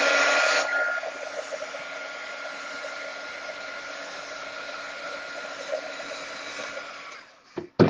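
Hair dryer blowing over handmade paper flowers, a loud steady whooshing roar that begins at full force, settles to an even hum for several seconds, then cuts off with a few clunks as it is switched off.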